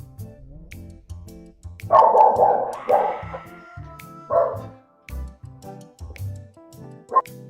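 Dog barking outdoors somewhere in Laguna, a few loud barks near the middle and a short one near the end, with quieter background sounds between.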